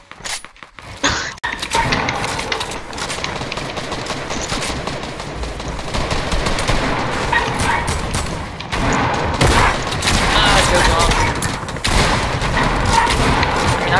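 Sustained, dense gunfire from a competitive video game scrim, loud rapid bursts and overlapping shots running almost continuously with little pause, a few brief voices mixed underneath.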